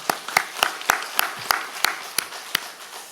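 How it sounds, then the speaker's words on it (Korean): A church congregation gives a round of applause for an elder during a sermon, sharp, fairly near claps landing in a loose, roughly regular beat over a soft background murmur. "우리 장로님 힘내라고 우리 한 박수 한번 합시다"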